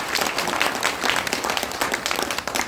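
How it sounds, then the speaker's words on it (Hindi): Steady applause from a seminar audience in Agastyamuni, dense clapping filling the whole stretch at a fairly close, even level with no talking over it. "एक बार ताली बजा दो।"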